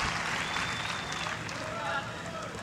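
Tennis crowd at the US Open on Armstrong court, a sustained wash of applause and cheering heard alongside a talking voice.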